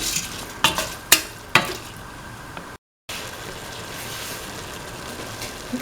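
Mung bean and potato mixture being stirred heavily in a pan for a vermicelli pasta dish: a few sharp scraping clacks early on, then a steady low sizzle with a brief gap of silence.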